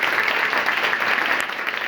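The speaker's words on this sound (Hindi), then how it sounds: "एक बार जोरदार ताली बजाइए" Loud sustained clapping from a school audience at a reasoning competition, a thick continuous patter of many hands that stays strong throughout and eases only slightly near the end.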